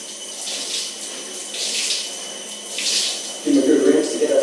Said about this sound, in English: Nice cold shower.